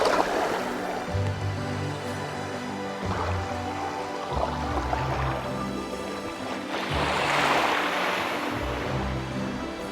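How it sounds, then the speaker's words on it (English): Ocean waves break on a wide sandy beach at Crane Beach, rolling and washing in loud, continuous surges that swell and fade with no voices over them. "The sound of the waves."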